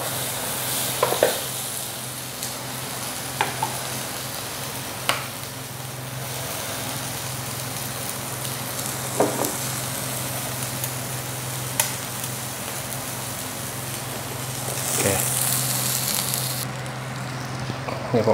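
Asparagus stir-frying in a pan with only salt and pepper, giving a steady close sizzle broken by occasional sharp spatula scrapes and clacks, with no talking.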